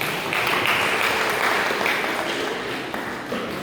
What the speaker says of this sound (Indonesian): Ya tepuk tangan dulu, tepuk tangan.